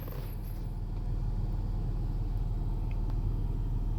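A 2002 Toyota 4Runner Sport Edition with 201k miles idles in a low, smooth, steady rumble, recorded close and fairly quiet, with no voices over it.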